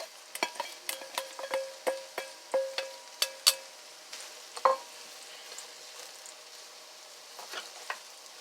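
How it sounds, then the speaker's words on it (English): Vegetables sauté in melted butter in a pan, giving a quiet, steady sizzle broken by a series of sharp crackles and pops, with scattered stirring clicks, close and alone. "when your butter's all melted, add your veggies in there"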